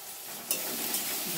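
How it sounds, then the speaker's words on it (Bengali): Onions frying in a pan, a steady close hiss of sizzling with a brief stir or clatter partway through, no talking. "পেঁয়াজটা একটু ভেজে নেব"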